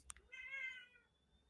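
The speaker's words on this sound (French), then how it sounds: "Oui, miaou." A single cat meow, fairly faint and close, rising and drawn out for just under a second after a couple of small clicks, then quiet.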